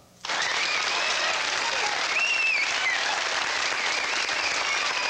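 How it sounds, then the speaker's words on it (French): Studio audience applause on a 1990 television quiz show starts abruptly and holds as a dense, even wash of clapping, with a few faint whistles and cheers above it. "ça mérite des applaudissements"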